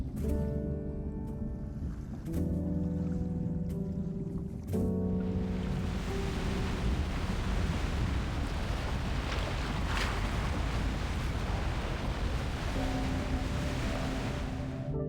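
Strong sea waves in the video game Love and Deepspace, a dense continuous roar of surf and rushing water, first under a layered musical tone and then sweeping in alone, loud and unbroken throughout.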